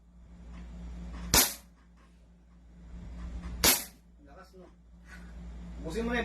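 Two loud, sharp gunshots about two seconds apart from a handgun being test-fired until its slide locks open, with voices talking between and after the shots.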